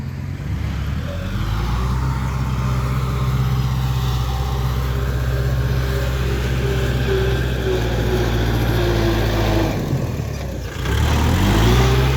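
A six-wheel truck stuck in deep, sticky mud at a pond excavation site holds a loud, steady engine drone with a low hum for most of the time, then pushes into a heavier surge near the end.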